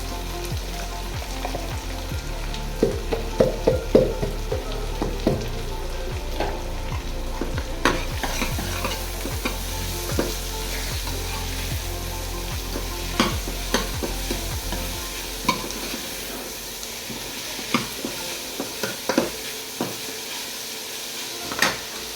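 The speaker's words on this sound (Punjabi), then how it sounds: "ਲੋ ਵਿੱਚ ਹੁਣ ਆਪਾਂ ਪਿਆਜ਼ ਵੀ ਪਾ ਦਿੰਨੇ ਆ" Chopped onions sizzle steadily in hot oil in a pan while a spoon scrapes and stirs them in repeated clinks, the frying loud and close, quieting toward the end.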